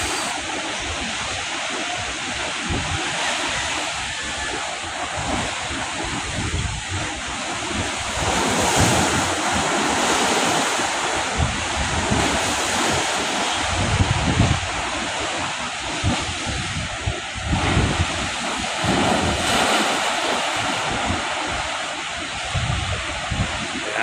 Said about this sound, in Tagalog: Background natin yung tunog ng alon,